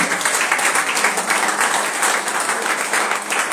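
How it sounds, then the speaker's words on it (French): Church congregation applauding together, a dense, steady wash of clapping that fills the whole stretch at even loudness with no pauses. "Acclame pour toi-même."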